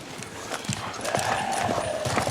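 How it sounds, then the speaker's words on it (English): A horse's hooves clip-clop steadily as a rider approaches, a regular rhythm of close, distinct hoofbeats over a soft outdoor background, with no talk. "almost on cue, Michonne comes riding up on her horse"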